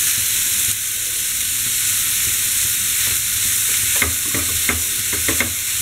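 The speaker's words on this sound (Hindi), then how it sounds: "सबको अच्छी तरह से मिक्स करेंगे।" Momo vegetable filling stirred and mixed in a pan, heard as a loud, steady frying hiss with a cluster of quick spatula scrapes and taps near the end, no voices.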